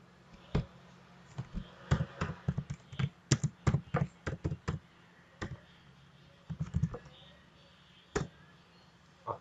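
Sharp keyboard clicks come in quick irregular clusters as code is typed on a computer, ending with a key combination to save the file; the taps are close and distinct against a quiet background.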